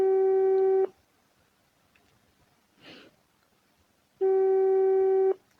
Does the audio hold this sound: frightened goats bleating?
no